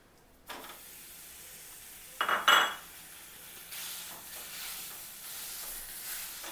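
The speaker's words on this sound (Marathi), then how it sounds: "तो पहिला मी खवा भाजायला टाकते." Khoa (milk solids) roasting in a hot kadhai, with a faint, low hiss and soft scraping, broken by a short burst of louder metal clatter partway through.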